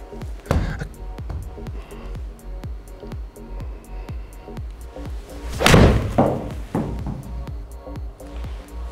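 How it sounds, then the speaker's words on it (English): A golf club strikes a ball with a sharp crack, followed by a louder impact burst a few seconds later, over a steady pattern of dull background thumps. "Golf shot."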